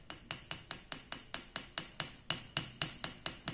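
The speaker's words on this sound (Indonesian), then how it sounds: "Jadi kita akan pukul dengan palu ini ya." A small hammer strikes a green chalcedony stone about fifteen times in a steady, quick rhythm, each blow a sharp, bright click with a ringing tone, close and clear with no talking.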